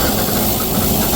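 A fertilizer spreader's engine runs while a large chain conveyor underneath drags fertilizer out, a loud, close, steady mechanical rumble with hiss and vibration throughout and no speech.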